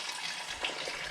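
Tap water runs steadily for washing feet at a house, a soft continuous gush and splash at moderate distance with no voices over it.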